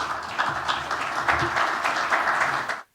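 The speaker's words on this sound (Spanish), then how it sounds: "Fuerte el aplauso, por favor." Applause from a seated audience at a corporate presentation, a steady wash of clapping lasting nearly three seconds before stopping abruptly.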